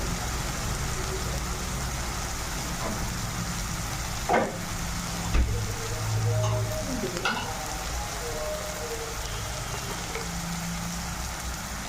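Bay leaves and dried chilies with ginger-garlic-chili paste frying in oil in a home kitchen, a steady loud sizzle with a few sharp pops and clinks of stirring partway through.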